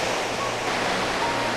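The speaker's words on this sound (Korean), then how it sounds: "검은색 현무암 기둥과 폭포 물줄기가 어우러지는 풍경이 인상적입니다." Steady roar of a waterfall pouring among black basalt columns in Iceland, glacial meltwater rushing as a continuous broadband wash, loud and close with no breaks.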